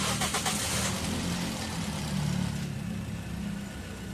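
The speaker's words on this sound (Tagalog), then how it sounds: "Tsaka ako ngayon ipapa-start itong makina." A Toyota Vios engine, just flushed after running noisy when hot, cranks and fires up loud and close, then settles into a steady, smooth idle.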